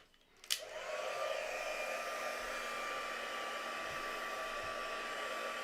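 A heat tool blows steadily while drying a mixed media craft project, starting with a click and rising to a constant close, loud whooshing hum that continues unbroken.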